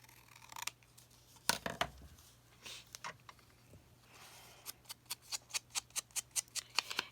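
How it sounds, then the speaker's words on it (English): Scissors snipping the edges of craft paper, a few scattered cuts at first and then a quick run of about a dozen crisp, evenly spaced snips, close and clear with no talking. "we're gonna have to cut just a little bit off the edges here"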